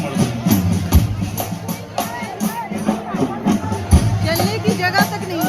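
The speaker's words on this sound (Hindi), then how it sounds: "चलने की जगह तक नहीं है यहाँ पे, इतनी भीड़ है।" A dense crowd packed into Times Square, New York, for a Navratri garba celebration, with a busy hubbub of overlapping voices, music and chatter, and people talking close by throughout.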